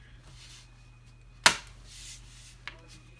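The plastic chassis of an HP 15-f272wm laptop snaps back into place with one sharp crisp click, followed a second later by a smaller click, in a quiet room.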